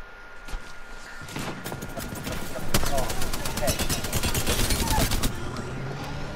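Gunfire in the video game Apex Legends crackles in rapid bursts of shots, close and loud, while players talk over it.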